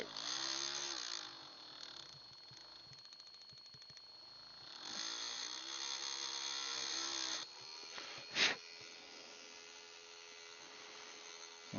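An electric drill whines in two sustained bursts, separated by quieter gaps, with a brief sharp knock afterward, while repairing a broken P61-C propeller.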